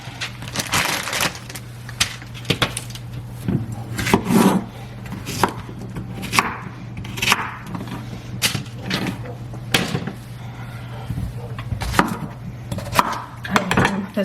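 Broccoli and other vegetables chopped on a board: repeated knife strikes in an uneven rhythm, crisp thuds and crunches close by, over a steady low hum.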